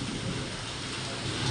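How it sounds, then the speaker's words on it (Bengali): Steady rain pours outside during a storm, a continuous wash of noise with a low rumble of thunder underneath, and no voices. "সকাল থেকে গুরুম গুরুম করে এইমাত্র বৃষ্টি নামলো।"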